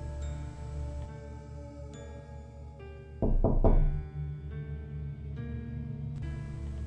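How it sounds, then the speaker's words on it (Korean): Knocking on a bedroom door as a horror radio drama effect: a brief cluster of a few soft knocks in the middle, set against a sustained eerie musical drone, with no voices. "밤마다 방문을 두드리는 소리가 들려온다"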